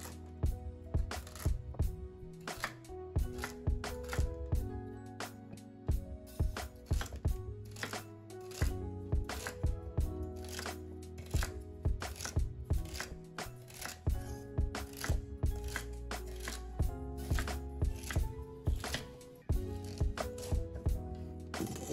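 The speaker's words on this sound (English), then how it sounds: "you're really just rough chopping this because this is gonna go in the oven" A knife rough-chops celery rapidly and repeatedly against a cutting board, a fast, uneven stream of sharp, close thuds with no talking.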